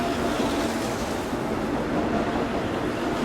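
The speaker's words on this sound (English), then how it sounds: "I can't quite hear her over the train." A train roars past in the Steins;Gate visual novel game, a loud, steady, broadband rumble that fills the whole stretch with no letup and no speech.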